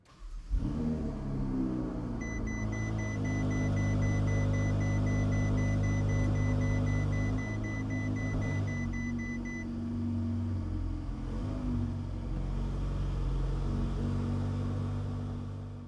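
Ferrari 488 Pista V8 sports car engine idling and revving, a loud continuous rumble with steady low harmonic tones that holds for about fifteen seconds with no talking.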